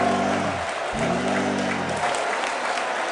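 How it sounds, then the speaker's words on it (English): An audience at the NSA Cyber Defense Exercise ceremony applauds the winning West Point cadet team: dense, sustained clapping from a full room, steady and fairly loud throughout. "I would ask you to then give your final and real round of applause for Cadet Mitchell and his team"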